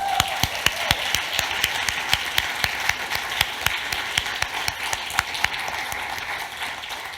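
A church congregation applauds a composer after a choir performance, steady broadband clapping with distinct individual claps standing out, sustained and moderately loud throughout.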